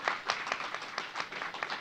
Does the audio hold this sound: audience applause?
yes